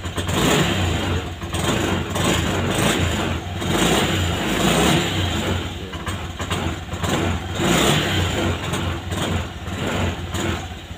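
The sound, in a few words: Honda Scoopy scooter engine revving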